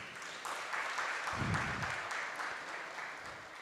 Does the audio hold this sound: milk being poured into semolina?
no